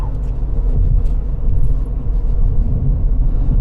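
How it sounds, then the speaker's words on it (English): Steady low road rumble of Washington DC traffic crossing the 14th Street Bridge, heard from inside a moving vehicle, continuous engine and tire noise with no talk. "now we get to enjoy DC traffic"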